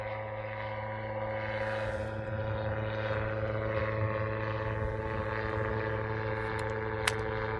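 A two-seat autogyro throttles up and climbs away over a turnip field, heard as a steady droning engine and propeller hum at moderate distance that holds fairly level throughout, with no talking.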